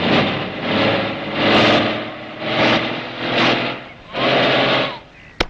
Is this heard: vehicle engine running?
yes